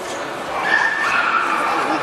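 Dogs yipping and whimpering at an international purebred dog show, short high-pitched calls close by amid a crowded hall's murmur.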